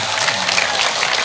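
Audience applause at an Islamic sermon gathering (pengajian) with NU and Muhammadiyah members, a loud, dense, continuous roar of many clapping hands filling the room.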